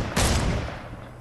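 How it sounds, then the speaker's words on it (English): Gunfire from shooting in the Fortnite video game, one sharp loud burst followed by a fading rattling tail over about a second. "Look, and this is me shooting."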